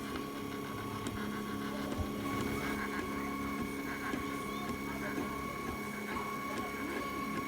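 A 3D printer works steadily on a geometric T Rex dinosaur in silver filament, its motors humming and whirring in a continuous, even drone with faint clicks throughout.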